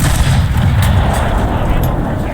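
Tank cannon fire in a World War II tank game featuring an Italian StuG III: a dense, booming blast and rumble with heavy low-end weight, sustained throughout without a clear gap.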